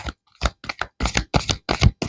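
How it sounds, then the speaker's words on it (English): Cards are shuffled in a quick series of crisp riffling bursts, about seven short rattles separated by brief pauses, close to the microphone. "So let's shuffle these cards."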